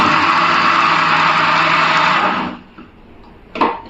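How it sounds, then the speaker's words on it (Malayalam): A kitchen blender runs at high speed churning cream to separate butter, a loud steady whir for about two and a half seconds before cutting off, followed by a brief clatter. "ഇതേപോലെ തന്നെ നമുക്ക് ബാക്കിയുള്ളതൊക്കെ അടിച്ചെടുക്കാം."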